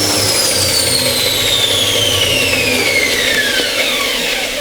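After switch-off, a Carbatec BDS 1530C belt and disc sander winds down. Its whine glides steadily lower over several seconds, loud and close, with no voices.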